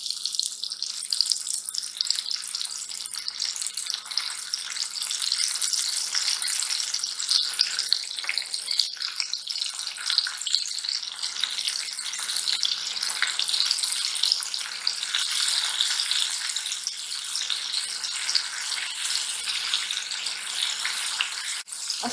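Flour-coated prawns frying in hot oil, a steady, dense sizzle and crackle that holds at an even level throughout, close and continuous with no talking.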